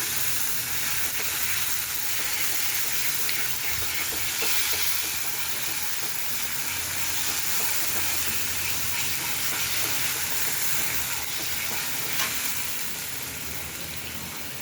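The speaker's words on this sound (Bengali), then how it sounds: "তারপর এটাকে অল্প নাড়িয়ে নিচ্ছি" Food sizzles steadily in a hot frying pan while being stirred, a continuous close hiss and crackle with faint scraping that holds level throughout, no talking.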